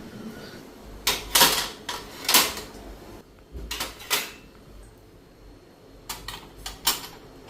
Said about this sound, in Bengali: এদিকে সবজি কেটে নিলাম, এই যে কচু কাটছি আর কাঁঠাল বিচি